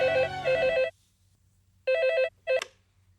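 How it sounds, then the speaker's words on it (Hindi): A telephone rings indoors in two long electronic bursts, pauses, then gives a shorter ring and a clipped final ring before it is picked up. The rings are clear and moderately loud against a quiet low hum. "हाँ, मिसेस शास्त्री का फ़ोन है"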